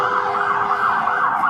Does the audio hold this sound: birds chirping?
no